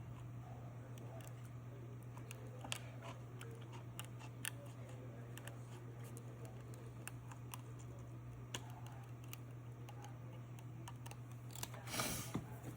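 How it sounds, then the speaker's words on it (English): Scissors snip along the traced petal line of a paper mandala pattern, quiet sparse clicks and cuts over a low electrical hum, ending in a slightly louder rustle. "You just want to cut along the petal line."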